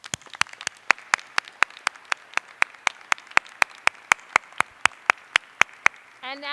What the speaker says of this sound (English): Please join me in giving them a special round of applause.